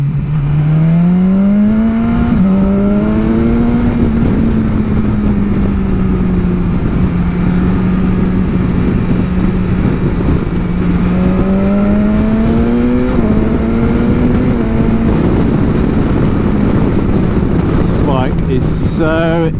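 A BMW S1000 XR motorcycle being ridden on Arthur's Creek Road in Victoria, Australia: a loud engine note rising and falling through gear changes and throttle swells, buried in heavy wind rush at speed.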